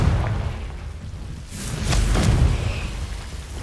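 A Confringo fire spell detonates in the Hogwarts Legacy video game, a muffled boom with a whooshing burst and crackling tail rising over low rumble.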